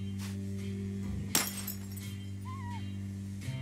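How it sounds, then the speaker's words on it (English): A sharp glass crack and shatter in the Leisure Suit Larry video game, one loud burst midway over a steady electronic hum, followed by a brief high whistle-like tone, no talk. "If you want to cut plastic glass, you need a plastic diamond."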